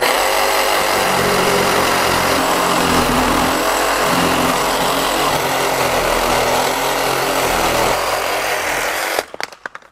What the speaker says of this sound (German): Und dann nehme ich hier meine Säbelsäge.